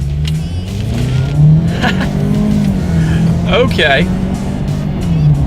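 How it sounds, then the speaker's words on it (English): A 2019 Ford Edge in sport mode accelerates hard, its engine droning loud and steady and climbing in pitch from inside the cabin, with a brief spoken word and a short whistling tone partway through. "let's do a quick little acceleration now that we are in that sport mode, and let's see how quickly we can get the 2019 Edge here up to speed"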